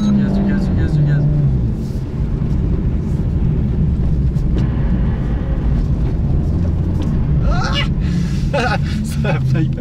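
An Alpine A110 S drifting on ice keeps a loud, continuous engine roar going under constant talking, with its revs swelling and dipping as it slides through the turns.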